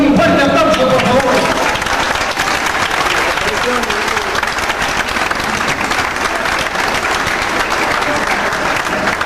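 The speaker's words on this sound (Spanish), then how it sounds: "Un fuerte aplauso, por favor" Loud, sustained applause from an audience at a Peruvian academic event welcoming a doctor, dense continuous clapping filling the whole stretch with a voice briefly audible at the start.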